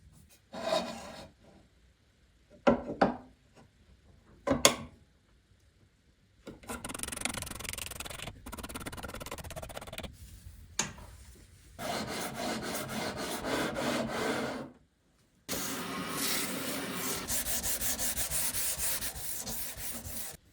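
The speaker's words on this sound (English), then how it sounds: "we can do the sanding and the leveling of the fretboard." Someone sands and levels the wooden fretboard of a vintage West German guitar: bursts of dry rasping strokes, short and sporadic at first, then longer continuous scrubbing passes separated by brief pauses, close and fairly quiet.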